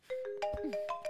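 A mobile phone rings with an incoming call, a short melodic electronic ringtone of sustained tones and repeated notes, faint and close, heard alone without talk.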